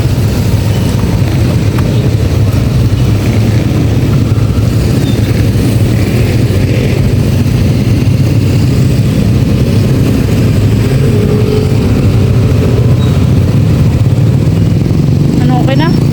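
A steady, loud engine rumble runs throughout, close by, with a constant low drone and wind-like noise and no clear pauses.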